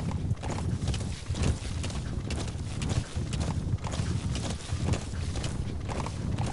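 Galloping horse hooves in the video game Metal Gear Solid V: The Phantom Pain, a steady rapid clip-clop rhythm, loud and close, with no voices.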